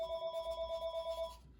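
A landline telephone rings in a rapid, steady electronic trill, one burst of about a second and a half that then cuts off, fairly quiet and heard alone indoors.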